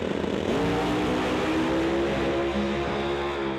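Drag race cars launch down the track and pull away hard, a loud engine roar climbing steadily in pitch as they accelerate, with no voices over it.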